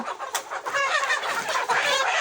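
Several chickens cluck and chatter close by, a busy overlapping flock sound with no talking.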